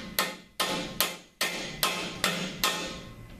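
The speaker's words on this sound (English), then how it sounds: "You insert the drive rivet through there and get a hammer. Just give it a few hard hits right on the head there." A hammer strikes a drive rivet seven times at a steady pace, sharp and close, fastening a polydome onto a U-channel post.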